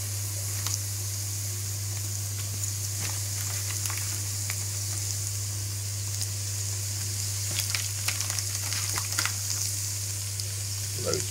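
Minced meat frying in a pan as it goes in after onions cooked until translucent, a steady close hiss and crackle of sizzling running throughout, with scattered sharper pops and a constant low electrical hum underneath.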